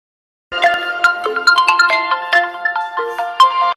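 A mobile phone ringtone plays an incoming-call melody of bright, quick tones, loud and close, starting after a short silence, with no talking.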